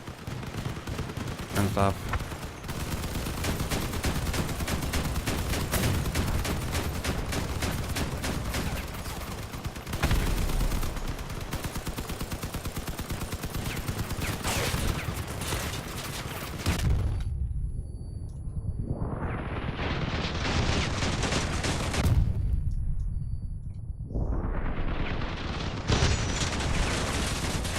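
Gunfire in the vehicle combat game Crossout, dense continuous shooting and explosive blasts under engine roar, followed by rising whooshing sweeps, with a voice speaking briefly.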